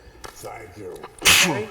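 A single sharp sneeze bursts out at a town select board meeting, following quiet murmured talk in a meeting room; brief voices are heard around it.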